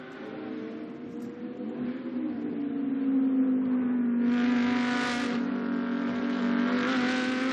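An Audi GT2 race car at the Paul Ricard circuit approaches, its engine note rising to a loud, sustained roar with a sharp high-pitched surge midway, alone without talk.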